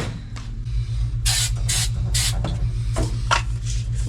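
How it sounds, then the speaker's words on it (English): Weld-through primer sprayed from an aerosol can onto steel floor patch plates on an old wood truck, in several short hissing bursts over a steady low engine or compressor hum. "Let me get some weld through primer and spray on it."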